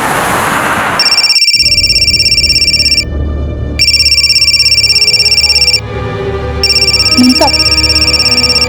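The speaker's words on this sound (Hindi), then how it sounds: "आपका फोन बहुत बज रहा है।" A telephone rings loudly in repeated electronic bursts separated by short gaps, with a brief low noise at the start.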